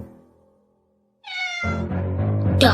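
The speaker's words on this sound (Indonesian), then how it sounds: "Dasar kucing nakal." A cat meows twice, the first call thin and high, the second a longer, fuller, louder meow that rises in intensity toward the end, heard close and alone after a quiet start.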